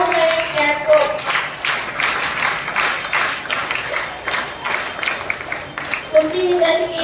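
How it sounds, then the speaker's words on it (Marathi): Audience at a school song-singing competition claps for a student's performance, a moderate, uneven patter of hands with children's voices and a speaker talking over it. "त्याच्यासाठी जोरदार टाळ्या झाल्या पाहिजे"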